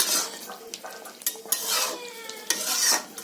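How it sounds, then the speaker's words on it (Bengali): Chicken curry meat being stirred in a pot, with a gentle sizzle under repeated metallic scrapes and knocks of a spoon against the pot, close and irregular, with no voices. "মাংসটা আমার একটু বাকি আছে, হচ্ছে আমি একটু নেড়ে দিচ্ছি"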